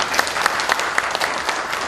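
Audience applause at a federation's extraordinary general meeting, a dense steady patter of many hands clapping for the whole stretch with no voices over it.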